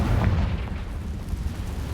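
A Confringo blast spell explodes in Hogwarts Legacy during a fight with a giant spider, a deep booming burst that rumbles and fades over a couple of seconds.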